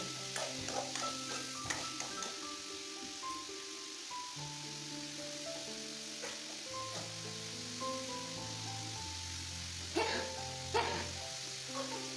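Potatoes and cauliflower being sautéed in a pan sizzle softly, with scattered scraping stir strokes and a few sharper clatters, low and steady with no voices.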